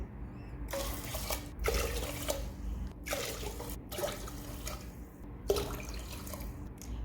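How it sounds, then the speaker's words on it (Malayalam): Water, about six cups, pours in several separate bursts into a pot of moong dal porridge, a splashing gush with short pauses between pours, close and moderately loud. "ഇനി ഇതിലേക്ക് ആവശ്യത്തിനുള്ള വെള്ളം ഒഴിച്ചെടുക്കുക"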